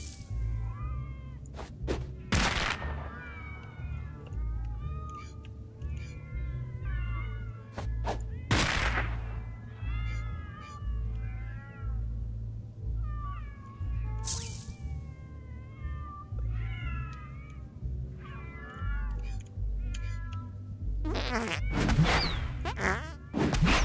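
Repeated cat meows in the video game South Park: The Fractured But Whole, short and bright, scattered over a steady low electronic hum with occasional sharp thumps.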